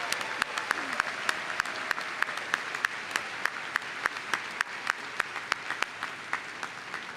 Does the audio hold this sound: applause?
yes